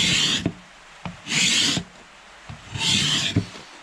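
A Record 80 cabinet scraper shaves fresh timber in three distinct, brisk strokes, each a bright rasping scrape about half a second long, with short quiet pauses and light knocks between them, heard close up and without any voices.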